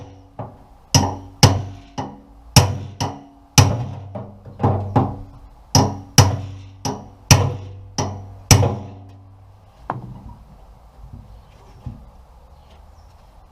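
Repeated hammer blows on a solid dead bar against a stuck part of a Mk3 Ford Cortina estate, a dozen sharp metallic strikes in an uneven rhythm, loud and close, then a few quieter knocks and handling noise.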